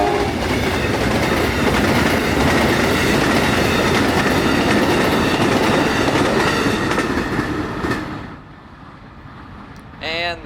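An Amtrak 91 passenger train rolls past a grade crossing with loud, close, steady wheel rumble and clatter that fades out toward the end, followed by a few faint bell-like tones.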